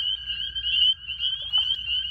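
Chorus frogs calling at a spring pond, a continuous overlapping chorus of rising trills, loud and close, with no voices over it.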